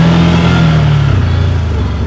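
A 2024 CFMoto Zforce 950 Sport 4 four-seat side-by-side accelerating in sport mode, its engine note loud and close, rising and then dropping in pitch with steady wind and road rumble underneath.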